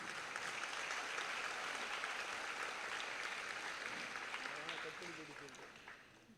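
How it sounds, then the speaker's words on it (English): Audience applause at the inaugural lamp-lighting of the Bharat Sangeet Utsav 2016 music festival, steady dense clapping from a large crowd that slowly fades out at the end. "So he definitely needs a huge applause."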